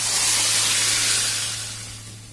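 Lentils dropped into onion and garlic frying in a pan set off a loud, close, steamy hissing sizzle that peaks at once and gradually fades, with no voices.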